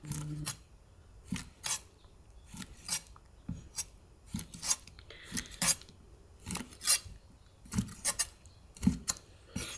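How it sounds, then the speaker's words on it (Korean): Knife cutting squid into bite-sized pieces on a board, a regular series of crisp slicing strokes with small clicks and taps in between, close and clear with no talk. "오징어를 이제 썰을 거예요. 이렇게 반 잘라갖고 그냥 먹기 좋은 크기로 썰면 돼요"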